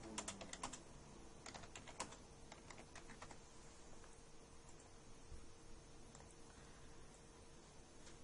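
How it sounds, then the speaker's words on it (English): Typing normal text into a text box on a computer keyboard: quiet, quick clusters of key clicks with short pauses between, over a faint steady background hiss. "if we type in a text box with some normal text"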